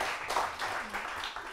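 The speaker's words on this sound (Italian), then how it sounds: "Applauso, molto bravi" A quiz show studio audience claps briefly, a short burst of soft, dense applause at moderate distance.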